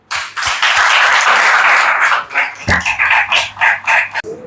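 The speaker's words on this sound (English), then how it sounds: "have a big round of applause for everybody" Audience at an English conversation training session in Lahore bursts into loud, dense applause that holds for a couple of seconds, then breaks into scattered individual claps before stopping.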